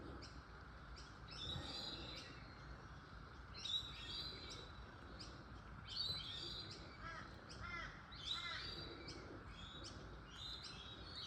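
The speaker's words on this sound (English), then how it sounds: "I don't even know if the crows know I'm here." Crows caw in short repeated bursts about every two seconds. They sound at a moderate distance over a soft, steady background on a rainy morning.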